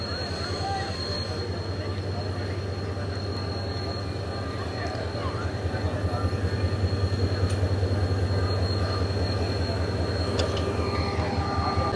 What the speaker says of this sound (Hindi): शाह लतीफ़ एक्सप्रेस जो है वो पहुँच चुकी है